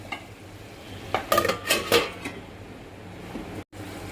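Capsicum curry sprinkled with roasted gram flour being stirred in a pan, a few close scraping strokes of a spoon against metal over a soft, steady sizzle.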